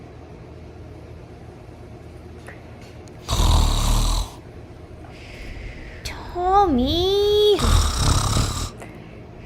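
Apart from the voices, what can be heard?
person snoring in deep sleep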